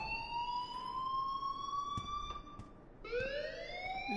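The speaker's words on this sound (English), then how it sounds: "please turn off that alarm since that's your job" An alarm rings inside a building in the video game Life is Strange, a steady rising electronic tone with bright overtones that drops and restarts near the end, loud and continuous with no talking.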